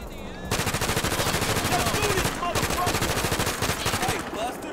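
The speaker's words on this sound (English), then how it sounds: "He's shooting it." Rapid automatic gunfire rattles in the video game GTA 5, a loud sustained burst of shots in quick rhythm with a brief gap partway through, then more firing.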